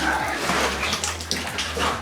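Water from an underground aquifer pours steadily through an old early-1900s slope mine, a continuous splashing rush like a filling tub, close and loud, with faint voices in the background.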